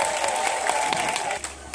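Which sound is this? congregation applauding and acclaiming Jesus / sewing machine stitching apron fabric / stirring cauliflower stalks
congregation applauding and acclaiming Jesus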